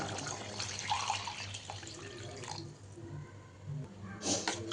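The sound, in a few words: water poured into a pot of chicken biryani masala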